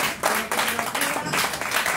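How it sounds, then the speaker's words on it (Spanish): Audience applause at a small indoor community event in Valencia, a steady crowd clapping that fills the whole moment, close and fairly loud, with no speech over it. "Y también un aplauso para él"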